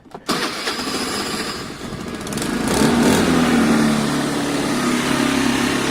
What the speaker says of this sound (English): The bike starts, runs and rides, everything works